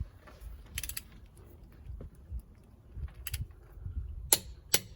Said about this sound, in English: we're going to tighten them in opposites. So we're going to do the locking wheel nut first.